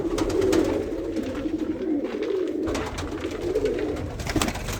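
Pigeons in a breeding loft coo continuously in low, throaty, rolling calls, close by and moderately loud, with no talking in between.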